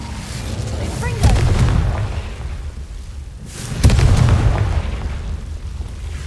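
Two deep, booming Confringo spell explosions from the Hogwarts Legacy video game, each a sharp blast that rolls out into a long rumble, heard over steady in-game ambience.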